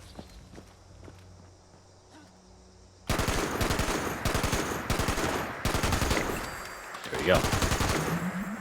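A weapon in the video game Fallout 76 fires in fast bursts, sudden and loud after a quiet start, with rapid shots rattling on for several seconds as someone speaks briefly.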